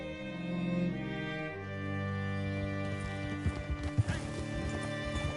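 Horse hooves clip-clop in a PS4 game, a short run of distinct hoof strikes near the end, close by, over a steady humming musical score.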